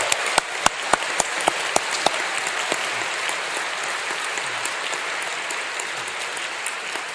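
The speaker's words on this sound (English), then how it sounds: "give yourself a massive round of applause" A graduation audience in Bridgewater Hall applauds with dense, sustained clapping and a few louder individual claps near the microphone at the start. The applause stays steady for about seven seconds.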